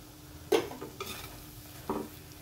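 Pav bhaji masala and turmeric being stirred in a pan, a faint background sizzle with two or three distinct spatula clinks against the metal, close and quiet, nobody speaking.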